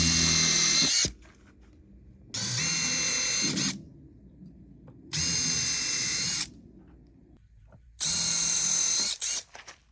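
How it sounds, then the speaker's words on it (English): A power drill boring pilot holes in deck boards for a rebuilt balcony deck: four loud, close whining bursts of a few seconds each, separated by quiet gaps with faint handling noise. "We drill pilot holes on only one side of each board."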